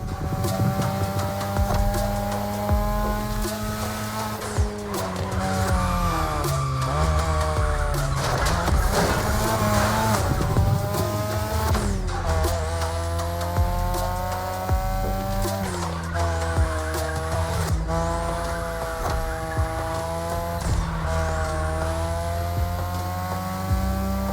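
Street race cars in The Crew Motorfest roar with loud, rising engine notes and repeated gear shifts, punctuated by tire squeals and whooshes as they pass, sustained and close.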